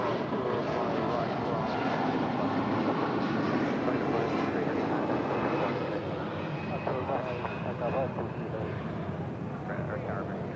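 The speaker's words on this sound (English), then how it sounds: "Avianca 523 departing to San Salvador on this A330-200" An Avianca Airbus A330-200 departs LAX for San Salvador, its engines a steady broad roar throughout, with radio chatter audible underneath.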